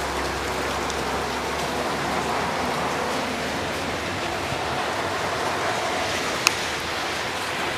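Rain falling outdoors by a roadside, a steady even hiss of drops on surfaces that holds at constant loudness, with one brief sharp tap near the end.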